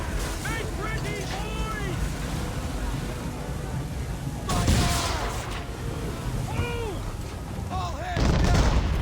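Ship cannons fire a broadside in a naval battle in Assassin's Creed III: two heavy booming blasts rise over rolling sea and wind noise, while voices shout commands throughout.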